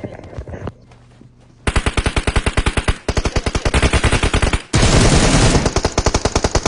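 Video game gunfire in PUBG: after a quiet opening, rapid automatic bursts rattle loud and close in long sustained strings. A brief break comes near the middle and a denser, harsher burst follows, with no voices.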